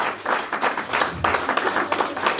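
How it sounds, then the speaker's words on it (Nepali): A small group claps at a wedding gathering, brisk uneven rhythmic clapping over a few seconds, fairly close, with faint voices underneath. "हामी ताली बजाउँ है"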